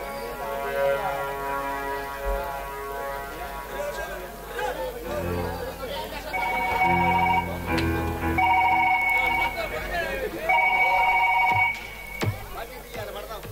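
A telephone rings in repeated bursts over background chatter, with people talking before the ringing begins.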